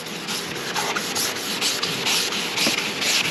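Hand sanding of a car headlight lens in left-to-right strokes, with paint masked off by tape around the edges; close, loud, rhythmic scratchy rubbing repeating about twice a second, no voices.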